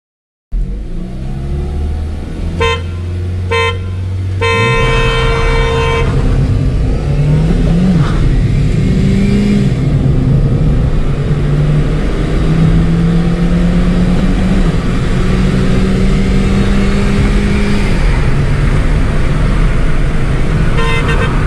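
A modified Ford Ikon and a stock Hyundai Grand i10 launch in a drag race, engines revving hard and rising through gears in a loud sustained roar, with horn toots sounding near the start.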